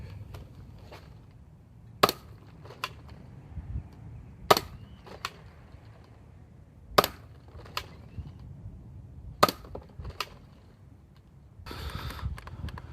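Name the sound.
modded Nerf Doomlands Double Lawbringer firing yellow Kush darts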